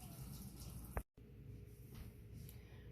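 Warm tap water runs steadily from a kitchen faucet while bread is being made, a continuous soft splashing stream with a brief break near the middle.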